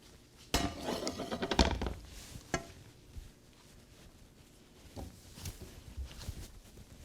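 A heavy fork scrapes and clinks against a pan of cabbage, mushrooms, onion and bacon, with a few close, bright knocks and rattles in the first seconds, then softer, sparse taps.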